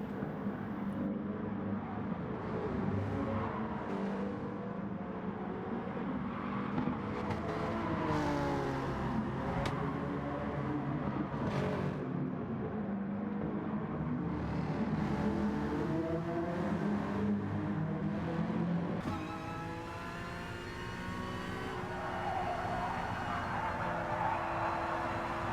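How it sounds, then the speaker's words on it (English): A race car engine in GT Sport, pushed hard during an online Nations Series race, drones loud and continuous through repeated revving and gear changes for the whole stretch, with no voices. "Really trying to push this car just to try and catch the driver ahead."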